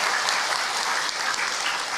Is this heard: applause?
yes